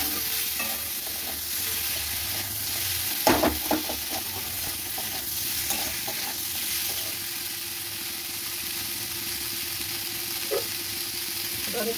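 Capsicum pieces stirred and fried in a pan for chili soybean, a steady close sizzle with scraping stirs and one louder clatter partway through, no voices.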